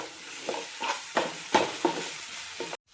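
Ginger-garlic masala is stirred into onions in a pan, giving a soft steady sizzle broken by half a dozen scraping strokes of a spoon, close and moderately quiet, with no talking.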